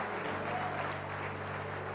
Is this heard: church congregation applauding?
yes